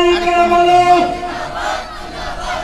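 A crowd at an Islamic religious gathering in Sarail, Brahmanbaria, roars a loud takbir (Allahu Akbar) together. The shout is held and slowly fades over a few seconds.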